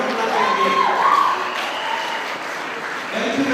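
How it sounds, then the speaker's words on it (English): Audience applause at a ceremony where names are read out, a steady wash of clapping from a crowd holding fairly even for several seconds, with a faint voice briefly rising through it. "Please let us clap for this."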